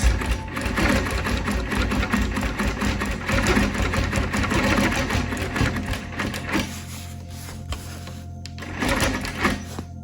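A sewing machine stitches in the ditch through quilt seams, running continuously with a rapid, steady mechanical chatter, dipping briefly in intensity before picking back up toward the end.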